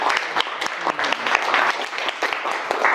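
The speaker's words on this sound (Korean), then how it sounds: "박수 한번 부탁드립니다." Audience at a lecture on housing prices and the economy applauding, loud close clapping with distinct individual claps standing out in an uneven rhythm.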